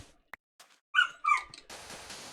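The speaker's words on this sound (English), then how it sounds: "Do apologize for the dog in the background." A dog in the background whimpers and squeaks in short, high, whiny bursts that rise and fall, then gives way to a breathy rustle near the end.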